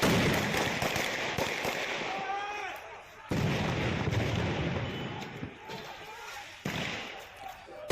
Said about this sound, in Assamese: গুলী বাৰুদৰ শব্দত জুই ধুৱাই এনেদৰে এই মুহূৰ্তত জৰ্জৰিত কৰি তুলিছে মণিপুৰৰ কেইবাখনো জিলা